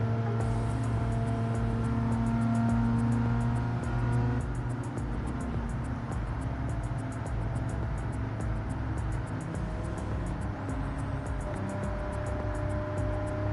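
A pack of racing cars idling and droning together in a racing game's GTC World Cup event, a continuous steady engine hum with a tonal shift partway through as the engines settle into a lower, rougher rumble.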